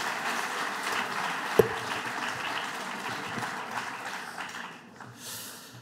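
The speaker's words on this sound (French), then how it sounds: "je vous demande des applaudissements pour notre ami Idriss Aberkane" Audience applause for Idriss Aberkane at a conference on the geopolitics of knowledge: a dense, steady wash of many hands clapping that holds for several seconds, then thins and fades toward the end, with a single sharper clap standing out early on.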